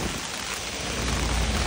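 Heavy rain pours steadily outdoors in New York City, a dense, continuous broadband hiss with a low rumble underneath, loud and close with no voices.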